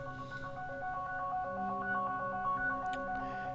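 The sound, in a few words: mobile phone ringing or notification sound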